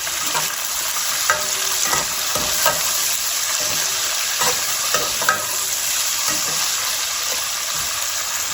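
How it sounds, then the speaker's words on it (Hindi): Spices roasting in oil in a pan over low heat for jaggery rice, a continuous bright sizzle with occasional stirring scrapes and small pops, close and steady. "रोस्ट होने देते हैं ऑयल में। अब ये चीज़ें इसके अंदर डाल देंगे।"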